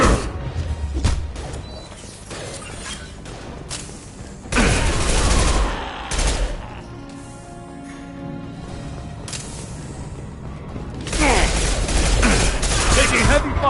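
Sustained video game gunfire in a Mass Effect 2 firefight, with dense rattling volleys and heavy bursts that swell loud, ease off into a quieter stretch with echoing impacts, then return at full intensity near the end.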